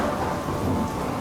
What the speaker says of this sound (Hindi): बरसात भी नहीं रुक रही है